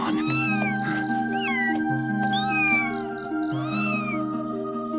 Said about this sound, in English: It's her cat.